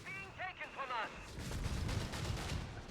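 A mortar fires from a converted 250 halftrack in a World War II strategy video game, delivering a steady bombardment. Brief speech opens, then repeated low thumps and crackling impacts follow at a regular pace.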